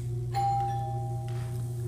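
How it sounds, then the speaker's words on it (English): A doorbell rings indoors with a single clear chime that rings out and fades over a steady low hum, fairly faint and without talking. "the doorbell rang"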